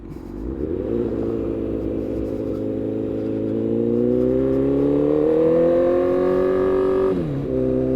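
The engine of a custom 2008 Honda CBR1000RR motorcycle revs loud and close, its pitch rising smoothly and steadily through the range. It drops sharply near the end as the throttle closes.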